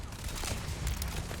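Gunfire in the video game Starfield: a few quick, close shots crack in succession over a dense, noisy background.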